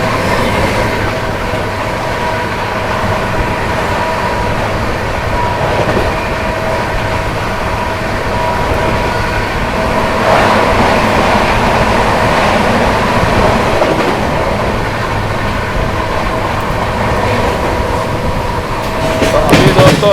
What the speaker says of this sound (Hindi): चलिए चलते हैं और आपको दिखाते हैं जब अपनी ट्रेन हाई स्पीड एक्शन करती है